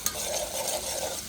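Crushed garlic and chopped onion roast in a pan over a country-style clay stove, giving a steady close sizzle with soft stirring scrapes and one brief clink near the start.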